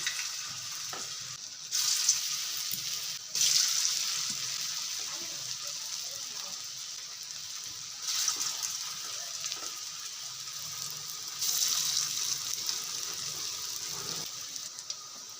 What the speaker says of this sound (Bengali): এই বড়া আকারে করে নিছি, এখন এগুলো ভাজবো